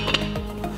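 A metal lid goes onto a pot of Irish beef stew with a short clink and scrape, close and fairly loud, followed by a faint rattle as it settles.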